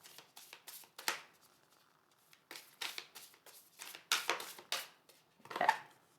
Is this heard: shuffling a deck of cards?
yes